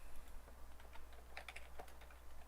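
Someone types on a computer keyboard during a coding live stream, a quiet patter of scattered key clicks that bunch into short bursts, with no talking.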